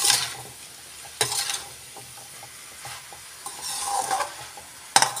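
Mixed vegetables being stirred in a pan with a spatula, several scraping strokes over a steady low sizzle, close and moderately loud, with no talking.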